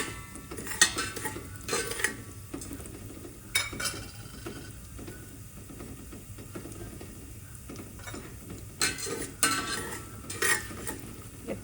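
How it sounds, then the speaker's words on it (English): Mustard seeds, a few broken red chilies and cumin spluttering and popping in hot oil for an Andhra-style sambar tadka, with soft crackling throughout and sharper bursts of pops near the start and end, alone with no talk. "I can hear the mustard start spluttering."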